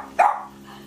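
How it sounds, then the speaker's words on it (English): A single sharp bark from a five-month-old Boston Terrier puppy, close and fairly loud, followed by a faint quiet tail. "5-month-old Bella, a little barking Boston Terrier."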